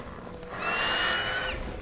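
A horse in The Witcher 3 video game lets out a single drawn-out neigh in the middle of the clip, moderately loud over low game ambience.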